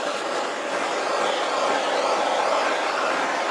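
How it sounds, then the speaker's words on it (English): A heat gun blows a steady, loud, broadband whoosh over an acrylic Dutch paint pour, unbroken throughout with no voices. "I was surprised at how drying the heat gun was"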